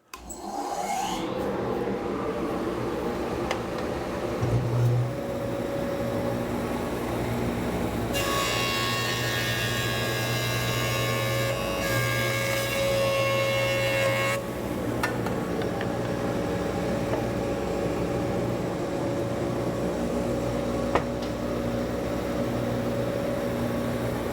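A spiral-head jointer in a woodshop hums steadily while planing a board with very thin passes. The pitch grows louder and harsher during one cutting pass in the middle, then settles back to the motor's drone.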